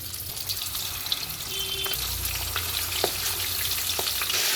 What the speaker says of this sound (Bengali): কড়াইতে তেল দিয়েছি, ভালো করে গরম করে নিয়ে মাছগুলো দিয়ে দেবো।